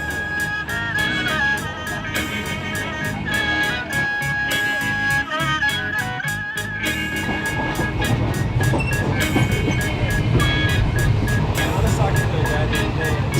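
Steady rumble and rattle of a moving train carriage in Bangkok, continuous and fairly loud, with rhythmic clatter and some background voices.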